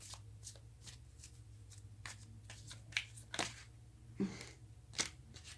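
Tarot cards being shuffled by hand at close range, a soft papery riffling with several sharper slaps and snaps as the deck is cut, quiet and with no talking.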